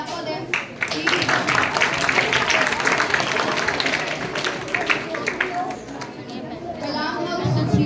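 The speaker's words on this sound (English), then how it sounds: "I want you all to clap for them." Students at a school quiz activity clap together in sustained applause, a dense patter of many hands mixed with crowd chatter, fading slightly near the end before picking up again.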